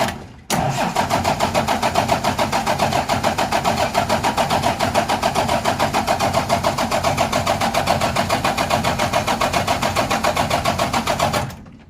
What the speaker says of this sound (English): we're going to crank it over till we start seeing fuel shoot out